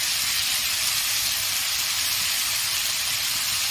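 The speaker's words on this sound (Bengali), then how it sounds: "নুন ছাড়া আমি একটু ভালোভাবে ভেজে নেব" Ridge gourd frying in hot oil in a pan with no salt added, a steady, loud, close sizzle and hiss that holds evenly throughout with no talking.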